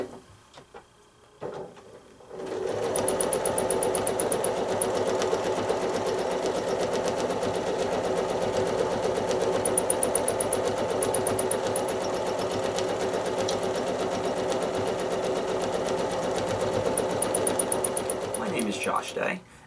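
A sewing machine quilts lines and curves across a rail fence quilt block, running in a fast, even, continuous needle rattle for most of the stretch after a quiet start with a few handling noises, close up and steady.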